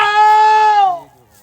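A single pigeon calls on a rooftop loft at night, one loud, drawn-out harmonic coo lasting about a second before trailing off, close to the microphone with no talk over it.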